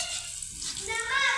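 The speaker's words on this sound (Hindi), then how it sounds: "जीरा डालकर इसमें डाल लेंगे हम कटी हुई लहसुन, तो लहसुन थोड़ी सी गोल्डन हो जाए" Chopped garlic with cumin seeds sizzles in hot oil, a brief bright crackling hiss, close and moderately loud.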